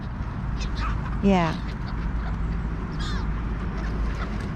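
Gulls call near an auto dealer's anti-bird device, with a loud rising squawk close by, a fainter call a moment later and steady low outdoor rumble underneath, while a person speaks briefly.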